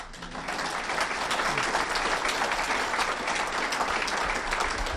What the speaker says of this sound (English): Can we please clap for the people?